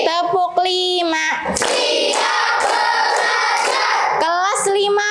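Primary school children in a classroom chant loudly in unison, punctuated by sharp, rhythmic bursts of group clapping up close.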